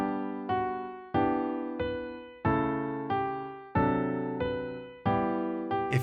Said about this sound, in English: we will have one note of Auld Lang Syne play on each half of the measure